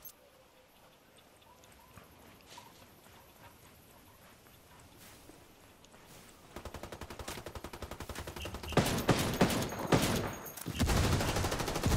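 Gunfire in a Ghost War ranked match of a video game, rapid automatic bursts growing louder and denser toward the end, with no talk over it.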